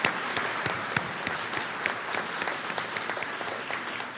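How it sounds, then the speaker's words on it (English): Steady applause from a graduation ceremony audience for health sciences graduates, dense continuous clapping from a large crowd throughout. "Let's give them all another round of applause."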